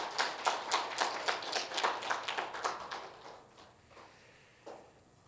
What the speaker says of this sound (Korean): 하나님께 영광의 박수를 크게 올려드리도록 하겠습니다